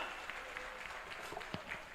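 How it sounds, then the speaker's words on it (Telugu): An audience claps during a live Telugu folk song performance: scattered, fairly faint applause heard from a distance, with a few sharper individual claps. "ఒకసారి మీరు చప్పట్ల ద్వారా తెలియజేయండి."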